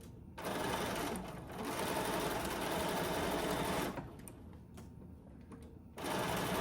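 A sewing machine stitches a quarter-inch seam on a beginner quilt block, backstitching at the start: loud, close whirring runs broken by brief pauses between bursts.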